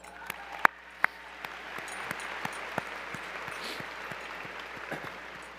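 An audience at a high school graduation ceremony applauds, a soft, diffuse wash of clapping from a large crowd heard from a distance, with a few sharper nearby claps standing out early on.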